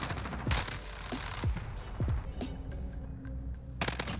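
A FAMAS rifle fires in a video game, rapid bursts of shots snapping in several short volleys with ejecting-casing tinks between them, moderately loud.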